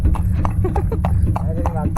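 Horse hooves clip-clop steadily on the dry salt flats of the White Rann desert, a close, even trotting rhythm with people talking over it.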